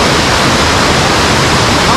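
Steady, dense roar of the Ava Ore waterfall, loud and close, rushing water filling the whole clip without pause.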